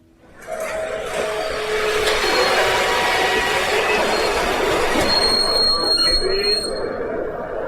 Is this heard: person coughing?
no